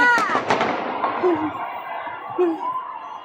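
New Year's fireworks crackle and pop in a quick cluster of sharp bursts near the start, followed by whistling streaks and fading booms, with people talking and laughing nearby.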